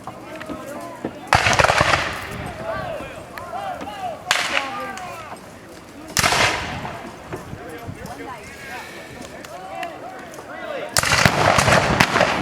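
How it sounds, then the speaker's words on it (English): Civil War reenactment battle in a park, with loud, sharp musket and artillery blasts cracking out at irregular intervals, some close and booming, between quieter stretches where people talk nearby and distant shots echo. "Major gunfire."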